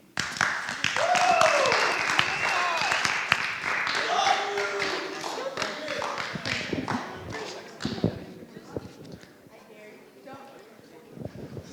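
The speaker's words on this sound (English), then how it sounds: "All right, clap it up" A classroom audience claps after a student talk, with scattered, uneven hand claps running through the clip under loud talking and thinning toward the end.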